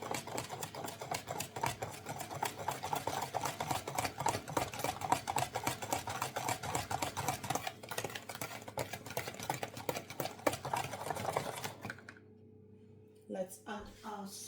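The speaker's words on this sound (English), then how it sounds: "we mix that gently just to make sure that that's incorporated" Dry muffin ingredients are stirred gently in a bowl, a soft rapid scraping and tapping that runs continuously at close range, then stops and gives way to a few faint clinks.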